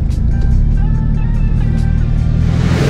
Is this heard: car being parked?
yes